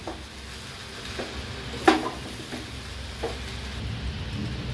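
Muri ghonto is stirred in a pan, giving a soft, low sizzle with a few scraping strokes and one sharper clatter of the spoon near the middle, quiet overall with no voices.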